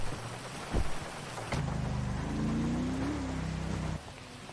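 Steady rain hisses across the whole stretch of a GTA 5 game scene, with a sharp thunder crack early on and a low engine-like drone rising beneath the downpour.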